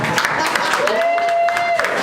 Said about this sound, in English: Let's give a round of applause for All Night Long.